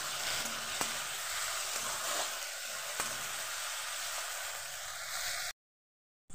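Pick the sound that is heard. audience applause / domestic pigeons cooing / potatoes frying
potatoes frying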